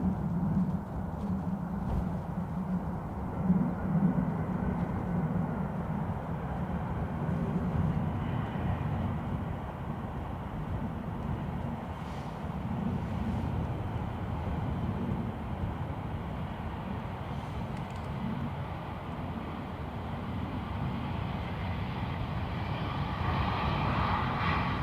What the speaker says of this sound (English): Sounds like almost like a go around overhead. It's not a cruiser, it's way too loud.